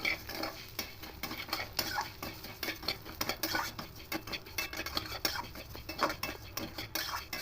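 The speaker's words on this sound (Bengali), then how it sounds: "আর একটু ভালো করে ঘি দিয়ে খুব ভালো করে ভেজে নেব তা এইভাবে নাড়তেই থাকবো" Vermicelli frying in ghee is stirred steadily in a pan, giving continuous clinks and scrapes of a utensil over a soft sizzle, close and fairly quiet, with no talking.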